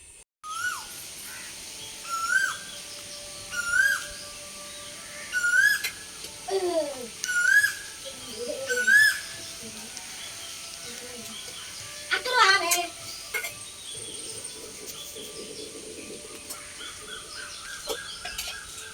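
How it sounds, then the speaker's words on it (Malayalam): Birds call near an outdoor village kitchen: a run of bright, whistled chirps repeats every second or so, followed by harsher crow-like caws, all fairly close over a quiet background. "നമ്മുടെ ബാക്കി വശത്ത് മുഴുവൻ കിളികളാണ് കേട്ടോ അതിൻ്റെ സൗണ്ടാണ് ഇടയ്ക്കിടയ്ക്ക് നിങ്ങൾ കേൾക്കുന്നത്"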